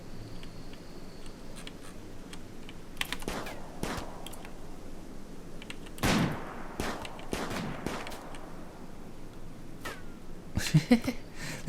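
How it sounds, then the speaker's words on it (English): Gunfire crackles as colonists fight each other in the game Rimworld: scattered short bursts and single sharp shots spread across a low, quiet background, a denser cluster near the end. "I was getting scared there as to what the shooting was, but it's these guys fighting each other"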